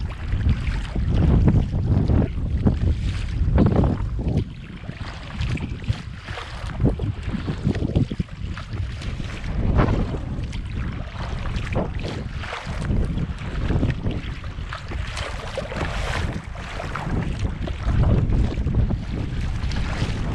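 Strong wind roars steadily into the microphone for the whole stretch, with gusty buffeting and the wash of choppy water underneath, while paddling a Sea Eagle Razorlite 393RL inflatable kayak into waves on Saranac Lake.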